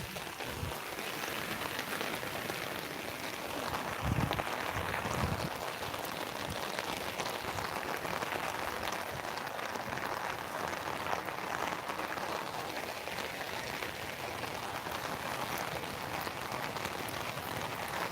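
Steady, dense heavy rain hisses without pause for the whole stretch, with a couple of dull low thumps early on and no voices.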